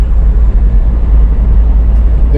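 A Mercedes-Benz W123 fitted with sunroof-mounted ram-air scoops drives along. A steady, close engine and road rumble holds throughout, with no voices.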